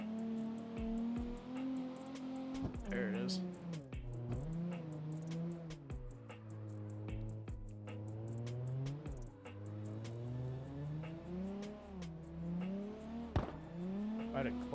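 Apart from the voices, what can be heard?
500 horsepower car revving and drifting in Car X Drift video game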